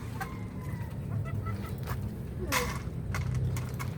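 White Kelso hens clucking softly in a backyard flock, with short scattered calls over steady outdoor background noise and some talking nearby.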